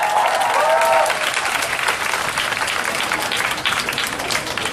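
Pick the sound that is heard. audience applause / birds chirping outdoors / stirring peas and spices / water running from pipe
audience applause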